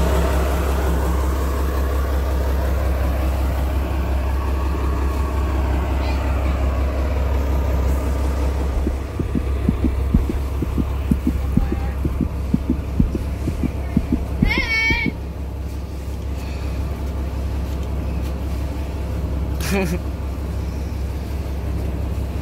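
A fishing boat's engine runs in the engine room of an East Aceh vessel, a steady low drone that holds for the whole stretch, with faint clattering and brief voices now and then.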